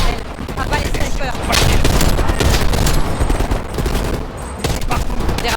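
Dense automatic gunfire in the Black Ops Cold War video game, loud continuous bursts and rattling fusillades overlapping throughout, with faint voices mixed underneath.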